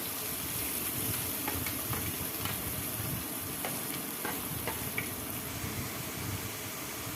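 Onions sizzle steadily in the oil left over from frying eggs for an egg drumstick pulusu, a continuous crackling fry with faint stirring clicks and no talk.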